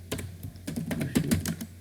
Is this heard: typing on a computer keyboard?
yes